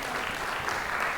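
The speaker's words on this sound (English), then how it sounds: "We deserve a round of applause." Short burst of audience applause at a news event, a continuous wash of clapping that fills the whole moment.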